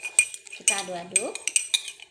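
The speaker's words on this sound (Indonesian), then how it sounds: "Kita aduk-aduk." A spoon stirs salt and coffee in a glass, repeated bright clinks of metal against glass in a quick, uneven rhythm, close and clear.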